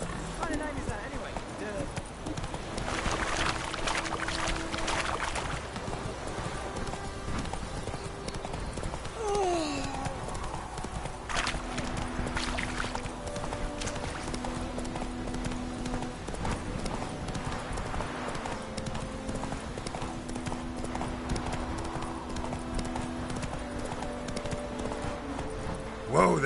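Roach, a horse in The Witcher 3, gallops with steady rapid clip-clop hoofbeats throughout, while game character dialogue and background music continue over the hooves.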